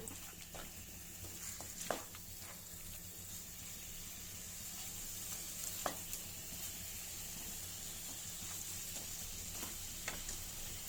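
Steady soft sizzling of onions frying in a pan with turmeric, with occasional faint stirring clicks, quiet and continuous throughout.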